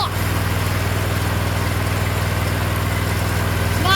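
A Toro Z-Master zero-turn mower's engine, running with its battery disconnected, idles steadily and close by, a constant low throbbing hum with no change in speed.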